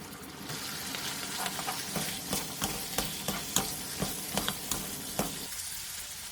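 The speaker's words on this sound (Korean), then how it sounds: "진간장, 굴소스, 매실액, 소주, 물엿, 다진 마늘을 넣고 센 불에서 조리듯이 볶아주세요" Korean home-cooked side dish being stir-fried over high heat with dark soy sauce, oyster sauce, plum syrup, soju, corn syrup and minced garlic, a continuous sizzle broken by regular scraping and clacking stirring strokes, close and alone.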